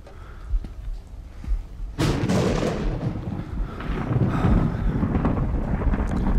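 Thunder accompanies lightning in the Paranormal Activity VR horror game: a sudden loud crack breaks in, then a heavy rolling rumble continues for several seconds with no talking.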